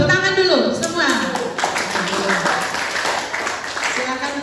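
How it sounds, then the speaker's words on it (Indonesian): Students in an Indonesian classroom clap together as a group is called up to present, the applause steady and close while voices talk over it throughout. "Tepuk tangan dulu semua."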